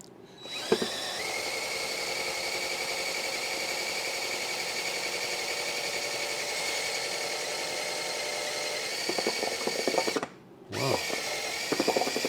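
A power drill, set to direct drive, turns over a 1964 Triumph TR4 engine at steady high speed, a continuous loud whine and mechanical drone, briefly stopping near the end before starting again.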